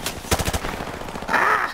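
A quick burst of video game gunfire, several sharp shots in fast succession near the start, followed by a brief squawking tone.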